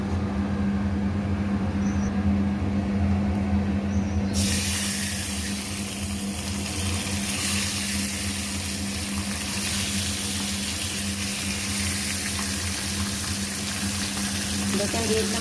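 Pabda fish go into hot oil with a sudden loud sizzle that then settles into a steady, continuous frying hiss, close and unbroken, over a low kitchen hum.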